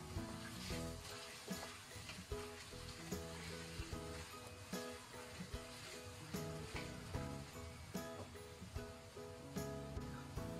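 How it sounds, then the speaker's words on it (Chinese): Mushrooms and soybean paste being stir-fried in a wok, giving a steady low sizzle with scraping stir strokes over a quiet background, no talking. "然后翻炒均匀，炒出酱香味儿。"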